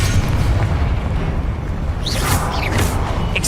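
A Confringo spell explosion in Hogwarts Legacy gameplay rumbles as a loud, sustained boom with a deep roar. Short whooshing bursts follow near the end.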